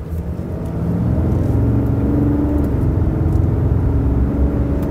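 RAM 2500 Laramie pickup truck accelerating, its engine rising into a loud, deep, steady drone heard from inside the cab, with no voices over it.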